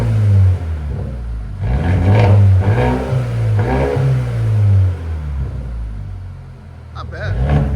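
A 2021 Mercedes A 35 AMG with straight-pipe exhaust revs in Sport Plus mode, giving close, loud, throaty rises and drops in pitch in several surges, followed by a quieter idle and a final short blip.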